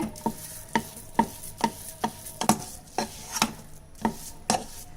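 Pink coconut sweet mixture being mixed in a pan, with sharp regular taps and scrapes of the spoon against the pan, about two per second, close and clear over a faint background.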